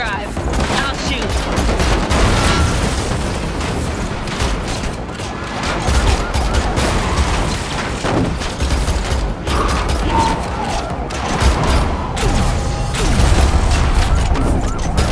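Rapid bursts of gunfire crackle almost continuously during a car chase in the Matrix Awakens video game, loud and dense with mechanical clatter, booms and engine noise underneath.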